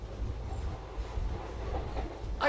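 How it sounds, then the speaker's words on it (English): A tram ride in the adventure game Syberia: The World Before: steady low rumble of a rail car rolling along with faint rhythmic clatter, continuous and moderately loud. "We've seen the tram ride a few times already"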